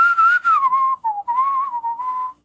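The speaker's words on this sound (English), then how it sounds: "I use whistling, right? When I do a composition" A melodic tune whistled for a musical composition, clear and close, one continuous wavering line with a brief break near the middle before the melody resumes and ends.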